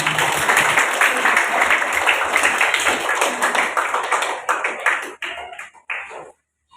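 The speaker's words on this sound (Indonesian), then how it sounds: "Tepuk tangan semuanya." Clapping from a school audience in Indonesia, dense and steady for several seconds before thinning into a few scattered claps and stopping, with some voices mixed in.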